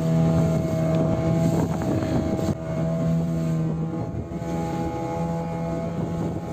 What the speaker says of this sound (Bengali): দেখো কত স্পিডে যাচ্ছে বোটটা